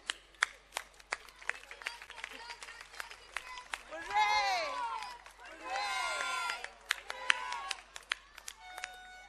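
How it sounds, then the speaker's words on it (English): An audience at a school annual function gives scattered applause, with sharp isolated claps spread across the moment and two swells of cheering voices in the middle, all fairly faint and distant. "So huge, huge thank you to a huge round of applause."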